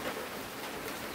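Steady rain falls continuously near a hut in a rural setting, a dense even hiss of drops with no voices during this brief moment.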